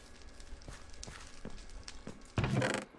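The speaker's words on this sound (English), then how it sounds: "Hi, horsey." A horse in Minecraft walks nearby, its hooves giving a slow series of soft, evenly spaced clip-clop taps, followed by a louder, rougher burst near the end.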